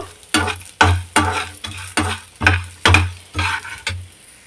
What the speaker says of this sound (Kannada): ಕಂದು ಬಣ್ಣ ಬರೋವರೆಗೂ ಫ್ರೈ ಮಾಡ್ಕೋಬೇಕು